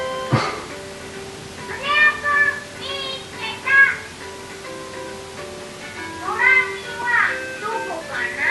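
Repeated electronic meows from a toy robot cat in a video game, several short chirpy calls spaced across the stretch, mixed with soft background game tones and a person talking.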